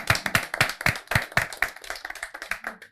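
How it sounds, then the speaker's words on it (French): A small audience at a live show claps, with distinct, fairly rhythmic hand claps near and clear, thinning into scattered claps toward the end. "Alors, applaudissez pour vous-même."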